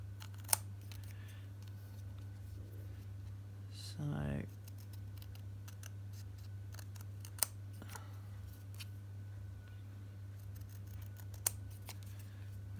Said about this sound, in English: I'm cutting these by hand